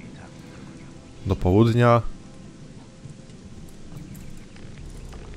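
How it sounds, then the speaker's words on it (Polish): Steady rain hisses in the Gothic II game world as a constant soft wash, with a brief spoken phrase cutting through near the start. "było chyba nadal słychać deszcz"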